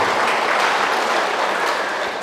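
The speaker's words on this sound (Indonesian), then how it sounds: "Tepuk tangan mahita tu si tua na pensiun." Church congregation clapping after a sermon on forgiveness, a dense, even wash of applause held steady at fairly loud level before tapering slightly at the end.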